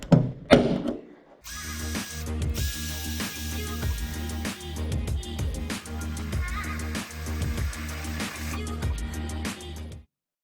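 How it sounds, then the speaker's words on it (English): A power drill bores holes in a Honda S2000 trunk lid for a wing mount, whirring continuously and close for about eight seconds after some brief handling noise. "So great success on the method I used to drill the holes"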